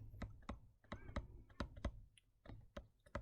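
Calculator keys are pressed in a quick irregular series of about a dozen soft, close clicks, faint and alone without talk.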